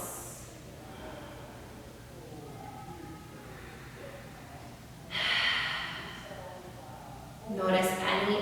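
Slow, deep yoga breaths during a power vinyasa class: two audible breaths come through near the end, each a drawn-out rush of air, with a soft instructor's voice in the background.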